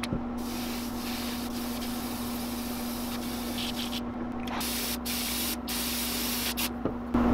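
Steady hissing bursts from a spray nozzle painting a fishing lure, several long sprays separated by brief pauses, close up over a faint constant hum.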